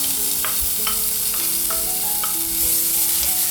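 Grated garlic and ginger fry in a tablespoon of oil in a pan, with a constant close sizzle and light scraping stirs at a regular pace.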